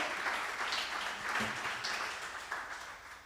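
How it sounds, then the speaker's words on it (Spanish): A church congregation gives a round of applause during a worship service, a steady wash of clapping from many hands in a reverberant hall that gradually fades, with a brief voice briefly heard in the middle. "¿Cuánto le dan un fuerte aplauso al Señor?"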